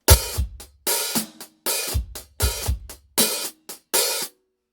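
A drum kit plays a one-measure groove from a song (the drummer's part): punchy bass drum and snare hits with cymbal wash in a steady rhythm, several short bursts separated by brief gaps.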